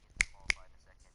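Two crisp finger snaps, close and distinct, about a third of a second apart, with a faint voice murmuring underneath.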